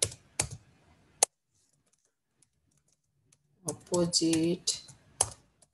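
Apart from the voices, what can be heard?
typing on a computer keyboard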